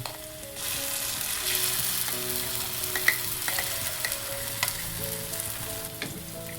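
Freshly ground green chilli paste hits a pan of browned onions and sizzles loudly, a dense, steady hiss with a few stirring knocks and faint tonal hum underneath, and no speech.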